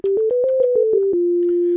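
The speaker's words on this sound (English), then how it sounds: "So a basic sine wave with a filter on it." Basic sine wave tone with a filter from the SynthMaster 3 init preset: a string of short plucked notes gliding slightly in pitch, then one held note, clean and alone.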